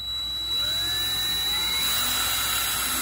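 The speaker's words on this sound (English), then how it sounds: "This is just like a 3/32 drill bit, and you want to drill up through the ball valve." A high-pitched drill with a 3/32 bit whines steadily and loudly up close, its tone rising as it bites up through the ball valve of a Fox 2.5-inch UTV shock reservoir, with no talking.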